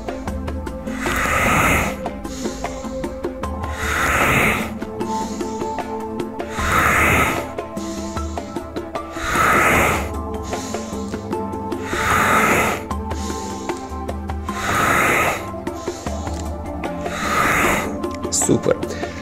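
Deep, audible breaths during a morning stretching exercise, repeating roughly every two and a half seconds in a steady rhythm, close and fairly loud.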